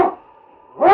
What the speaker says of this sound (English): swiftest and strongest lead dog of the Northwest